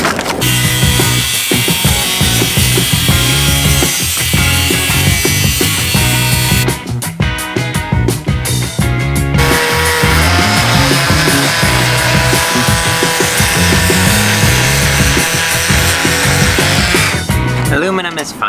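A saw cuts through aluminum for a van's slide-out solar panel mount, a loud, continuous grinding and whining buzz that shifts in pitch partway through, close up and sustained for the whole stretch.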